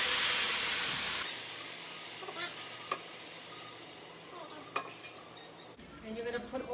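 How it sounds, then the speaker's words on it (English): Paella sizzles and hisses steadily in a hot pan, with a few soft scrapes and clinks, fairly quiet and continuous. "You can hear it sizzling."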